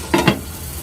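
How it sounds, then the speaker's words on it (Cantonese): A thick pork chop frying in a pan over low heat, giving two short bursts of sizzling and stirring noise close by, then a quieter steady hiss. "呢個豬扒都幾厚，咁我哋收慢少少火煎"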